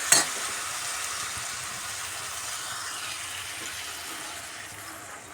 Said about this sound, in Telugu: ఇప్పుడు ఈ ఉల్లగడ్డల్ని బాగా ఉడికించుకుందాం మెత్తబడే వరకు బాగా ఉడికించుకుందాము